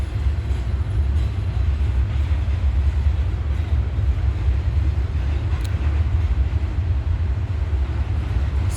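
Train rumbling steadily past at close range, a loud continuous low-frequency roar with rattling wagon noise throughout, no voices.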